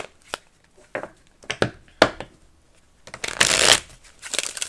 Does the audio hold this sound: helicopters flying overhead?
no